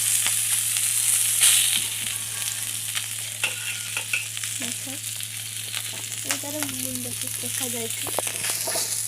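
Fish frying in hot oil for a home-cooked fish curry, a steady close sizzle with bubbling crackle and occasional stirring scrapes, while a voice talks intermittently over it.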